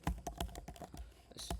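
Rapid keystrokes on a computer keyboard as a Django command is typed, a brisk run of close, distinct clacks with no talk.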